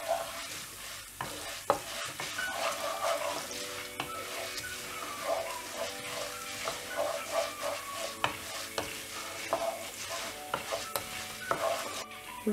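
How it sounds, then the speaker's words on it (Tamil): Urad dal fries in hot oil for kothamalli thogayal, a continuous close sizzle broken by repeated scraping strokes of a spoon stirring the pan, with a few sharp clicks against the metal and no talking. "இந்த உளுத்தம் பருப்பை நல்லா இந்த எண்ணெயில் ஃப்ரை பண்ணி விடணும்."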